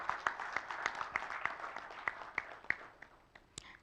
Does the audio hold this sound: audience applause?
yes